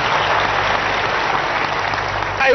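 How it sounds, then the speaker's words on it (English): A church congregation claps steadily through a live Sunday service, dense and sustained applause filling the room without a break, with a brief louder swell near the end. "Clap for Jesus Christ."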